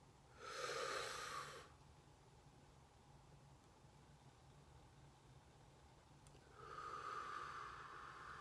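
Two slow breaths, an inhale then an exhale several seconds apart, each a soft airy rush, close and quiet with a faint hum underneath and a stretch of near silence between them.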